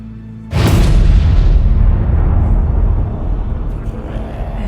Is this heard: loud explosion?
yes